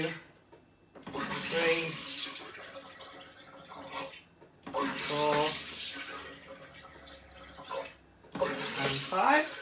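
A SodaStream Fizzi sparkling water maker carbonates a bottle of water in three loud hissing bursts of gas, each separated by a brief pause, with a person counting over them.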